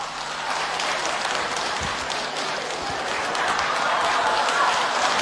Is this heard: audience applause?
yes